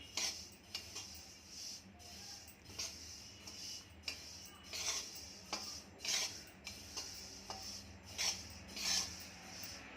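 Sesame seeds roasting in a pan while a spoon stirs them, soft rhythmic scraping and clinking strokes repeating about once a second, quiet and close, with no talking.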